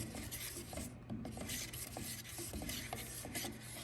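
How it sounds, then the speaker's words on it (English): Paint being stirred in a can before spraying wheels with a Harbor Freight Black Widow gun, a steady rasping scrape with repeated rhythmic strokes, close and moderately loud, with no talking. "make sure you stir this up really well"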